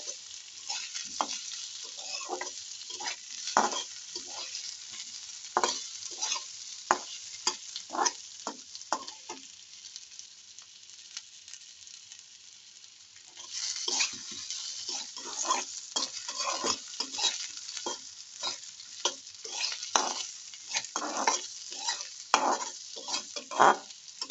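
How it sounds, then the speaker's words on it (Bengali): Potato pieces fry in a pan while a utensil stirs them, giving steady sizzling with repeated scraping strokes, a brief quieter stretch midway, then more stirring. "এই যে আলুর পিসগুলো একটু ভেজে নিচ্ছি। এগুলো হালকা লাল করে ভেজে নেব।"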